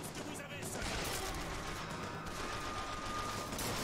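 Sustained rapid gunfire crackles through a dense, noisy firefight in the video game BioShock Infinite, continuous and fairly loud from start to finish.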